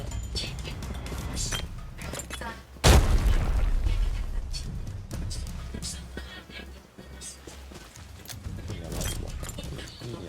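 A heavy grenade boom erupts partway through amid busy Arena Breakout game action and chatter, followed by scattered pops and bursts under continuing talk.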